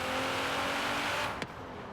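A Nissan GT-R engine droning steadily in the racing game Forza Horizon 3, a sustained hum that drops off abruptly near the end after a short sharp transient.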